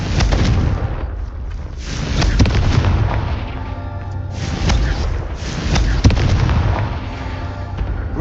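Fiery Confringo spell blasts from the Hogwarts Legacy video game go off repeatedly, loud booming bursts arriving in quick succession over a dense rumbling game soundscape.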